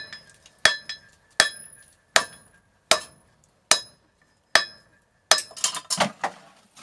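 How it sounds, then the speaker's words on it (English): Hammer cross peen striking steel on the horn of an anvil while drawing out a pickaxe knife blade, eight evenly spaced ringing metallic blows with bright decay, close, followed by a faster flurry of lighter strikes. "I'm gonna use the peen, or the cross on the hammer here, on the horn of the anvil, to really draw this steel out"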